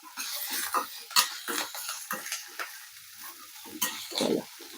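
Upma vegetables with ginger-garlic paste fry in a pan, with a busy crackling sizzle broken by repeated scraping stirs and spatula clinks, loud and close.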